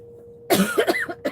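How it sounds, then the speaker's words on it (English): A person coughs in a loud, close burst of several rough hacks, then pauses and gives one more short cough, out on a pontoon boat during a live catfishing outing. "Might not be able to stop coughing."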